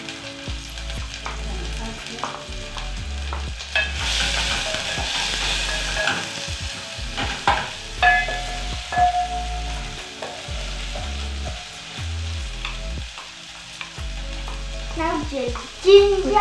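Onions and dania stems fry and are stirred in a pan, giving a soft sizzle under repeated scraping strokes, with a loud low rhythmic background sound running throughout and the occasional tonal clink.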